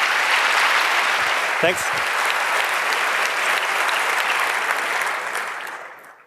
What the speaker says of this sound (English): Give a warm applause